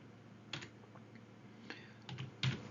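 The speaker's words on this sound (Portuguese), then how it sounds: "Eu vou digitar igual" A few sparse keystrokes on a computer keyboard while entering a formula in Excel, quiet, close clicks spaced irregularly over a low background hum.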